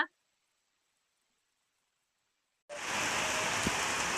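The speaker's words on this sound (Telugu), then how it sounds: "చూడండి ఏం వర్షం వస్తుంది అసలు" Heavy rain starts abruptly after a near-silent stretch and pours down steadily, a loud dense hiss close by, with no talking.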